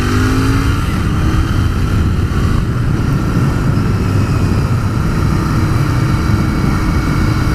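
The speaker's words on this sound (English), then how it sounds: "Right, let's listen to this engine." A 2019 Royal Enfield Continental GT 650 twin-cylinder motorcycle engine at a steady loud drone, close up and unbroken, with wind roar and a faint passing tone over it, no talking.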